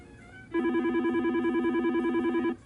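A single telephone ring on an office phone system's main line, an electronic warbling trill lasting about two seconds, steady and moderately loud against a quiet room.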